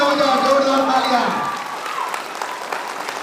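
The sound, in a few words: audience applauding loudly at a Safe Shop seminar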